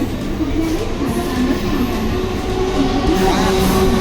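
A Mumbai suburban slow train runs steadily, with a continuous rumbling roll and a faint squeal or whine toward the end, at constant loudness throughout.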